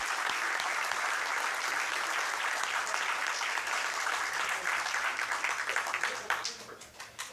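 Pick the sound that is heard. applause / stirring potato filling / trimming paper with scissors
applause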